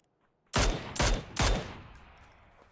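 Three loud, sharp gunshots in a PUBG match on the Erangel map, spaced roughly half a second apart, each cracking out near and clear against quiet before a lingering echo fades out.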